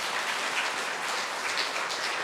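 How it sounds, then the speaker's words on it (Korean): A church lecture audience applauds steadily after a Lenten talk, a dense, even wash of many hands clapping throughout, fairly loud and close with no voices on top. "박수 한번 더."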